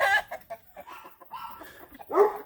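Chickens clucking on a farm, several birds giving nervous, uneven clucks and short squawks close by, with a louder burst at the end and no speech.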